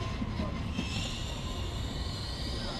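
A steady, loud rumble of a passing EMU3000 electric train in Taiwan, with a high whine running throughout and no clear talking.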